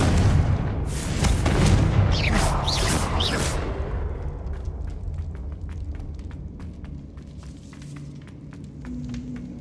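A Confringo fire spell in Hogwarts Legacy bursts with a loud booming explosion and whooshing rush, then fades into scattered crackling debris and lighter clicks.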